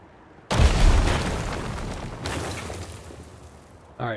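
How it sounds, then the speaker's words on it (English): A temple collapses in the Nova Roma city-building game: a sudden loud booming crash with deep rumble that slowly decays, a second crumbling burst partway through, then a short clatter at the end, with no talk. "let's destroy this temple and try again"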